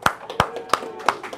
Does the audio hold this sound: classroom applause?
yes